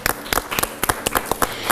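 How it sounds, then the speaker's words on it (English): A short burst of scattered applause at a school quiz competition, a handful of people clapping unevenly and close by. "you're going to give yourself a round of applause."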